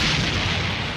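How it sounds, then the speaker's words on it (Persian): A single explosion sound effect, a loud, dense, rumbling burst that fills the whole moment without any voices. "آخ چه انفجاری بود."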